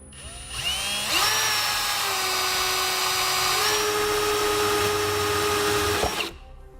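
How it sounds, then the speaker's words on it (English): Power drill whines up to a steady high-pitched grind as a 1-inch hole saw cuts through a plastic tail light on a 2018 vehicle, holding for several seconds before spinning down. "I'm going to be using a 1-inch hole saw. I'm just going to drill straight into the tail light"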